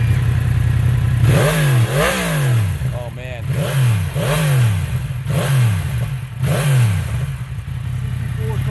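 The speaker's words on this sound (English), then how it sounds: "CP4 cross-plane crank engine." A Yamaha MT-10 motorcycle with a CP4 cross-plane crank engine and Yoshimura exhaust revs repeatedly in sharp rising-and-falling bursts, loud and close, at a motorcycle rally in Lake George, New York, with a voice briefly exclaiming.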